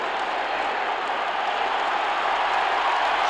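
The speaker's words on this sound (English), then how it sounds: "Standing ovation for the Lions." Stadium crowd at a 1979 Washington Redskins at Detroit Lions football game gives the Lions a standing ovation, a steady, dense roar of applause and cheering that holds at an even level throughout.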